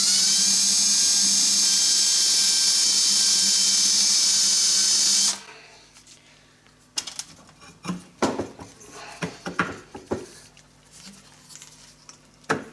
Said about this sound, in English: I'm just going to spot drill this with the 3/16 drill bit